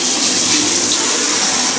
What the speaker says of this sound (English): A little bit more powerful stream coming from the inside.